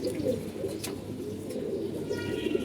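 A domestic pigeon coos continuously near at hand in a home loft, the low rolling murmur steady throughout with a faint brief chirp on top.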